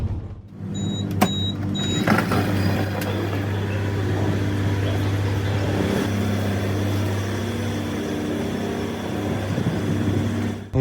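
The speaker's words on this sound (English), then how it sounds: "Here comes a smart looking 340i touring." A BMW M340i Touring car arrives with a steady, fairly loud engine drone close by, holding level throughout with no one talking.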